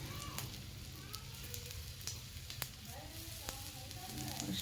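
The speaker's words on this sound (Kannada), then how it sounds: "ಎಣ್ಣೆಗೆ ಚಟಪಟ ಅಂತೈತಿ" Potato slices frying in hot oil give off a soft, continuous sizzle with scattered sharp crackles and pops, fairly quiet, with a faint voice talking in the background.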